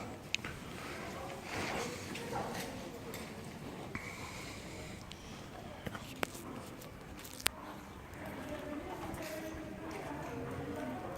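Horse hooves clip-clopping at a steady rhythm during a riding lesson in an arena, as the horse works on a small round circle, with an instructor talking throughout and occasional sharper clicks.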